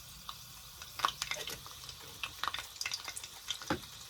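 Herbs such as basil go into hot oil infused with rosemary, giving a light, uneven crackle with scattered sharp pops and faint stirring scrapes, close by and with no voices.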